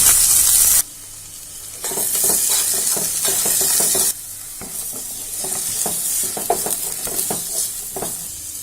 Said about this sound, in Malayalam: ഇനി ഇതിലേക്ക് നമുക്ക് എടുത്ത് വെച്ചിരിക്കുന്ന സവാള ഇട്ട് കൊടുക്കാം